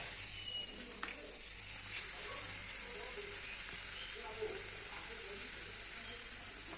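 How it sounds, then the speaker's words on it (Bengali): Cumin and ginger-garlic paste with soybeans sizzle softly in a pan as they are stirred, a steady low frying hiss with an occasional faint scrape or tap, heard alone. "এই যে এবার দেখো আমি এটাকে ভালো করে নেড়ে নিচ্ছি।"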